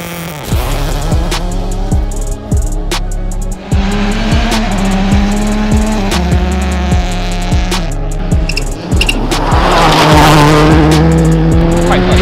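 Ken Block's 2021 Subaru rally car idles on the two-step with rapid, rhythmic pops and bangs crackling over a loud engine drone, then pulls away hard, the engine note rising as it accelerates.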